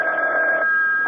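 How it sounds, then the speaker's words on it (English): An old telephone in a 1977 radio drama rings with one loud, steady electronic tone, close and unbroken, with no talk over it. "Reuben, aren't you going to answer the phone?"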